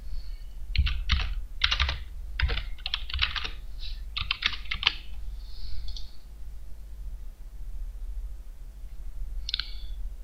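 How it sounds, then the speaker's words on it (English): Someone types a password on a computer keyboard, with quick bursts of crisp key clacks in irregular clusters, then a pause and one last short flurry near the end, close and clear with no speech. "And type a password."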